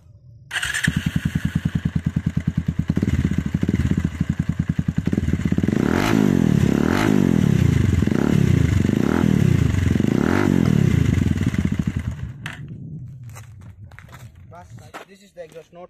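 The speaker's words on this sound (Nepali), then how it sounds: "This is the exhaust note of this motorcycle." A modified Bajaj Pulsar 220F motorcycle fires up and idles with a deep, rapid exhaust thrum, then rises in several loud revving sweeps before settling and cutting off near the end, heard up close.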